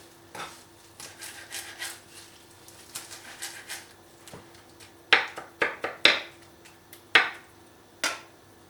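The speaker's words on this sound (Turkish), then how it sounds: "Maydanozlarımı da güzelce doğruyorum." A knife chops fresh parsley on a board, giving a series of crisp, close taps: lighter, quicker cuts early on, then several louder, sharper strikes spaced apart near the end, with no talk.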